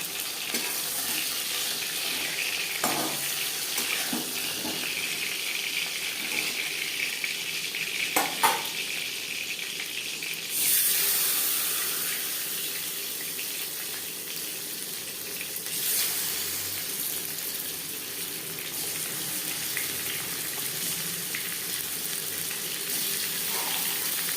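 Chitol fish pieces frying in oil in a pan, a steady dense sizzle with occasional clinks and scraping of a spatula, continuing evenly throughout without talk.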